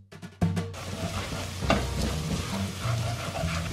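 Food sizzles and fries in a pan with annatto powder added, a steady crackling hiss with stirring clatter throughout, close and fairly loud, preceded by a few brief knocks.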